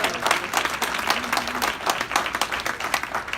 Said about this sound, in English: How about a big round of applause for the class of 2021?